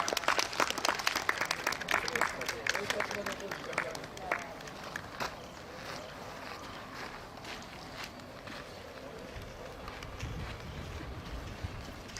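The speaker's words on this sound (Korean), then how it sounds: "모두 힘찬 박수 부탁드립니다." Applause from the audience at a memorial stone unveiling for a girls' high school's 100th anniversary, strongest at the start and then thinning into scattered claps under crowd murmur.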